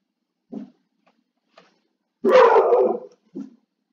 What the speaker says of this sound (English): Lots of people being loud, which is causing my dogs to be loud.